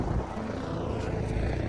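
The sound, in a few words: helicopter flying near Kedarnath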